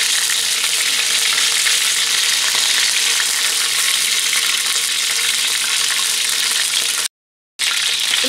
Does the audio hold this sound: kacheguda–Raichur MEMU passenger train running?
no